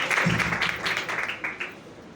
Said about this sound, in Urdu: آئیے یسوع کے جلال کو زوردار تالیاں بیٹھ سکتے ہیں